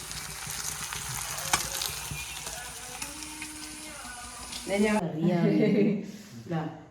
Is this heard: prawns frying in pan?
yes